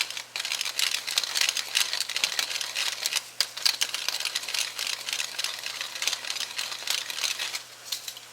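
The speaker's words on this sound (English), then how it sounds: "I'm going to add a generous amount of cracked black pepper" Cracked black pepper is ground by hand into a pan of vegetarian mushroom gravy, giving a continuous close, dry crackling grind with uneven gritty ticks that runs steadily for several seconds.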